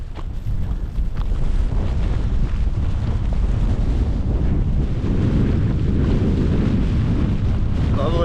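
Strong wind on a Scottish mountain in cold November weather buffets the microphone in a constant heavy roar, gusting and rumbling low throughout with no voices.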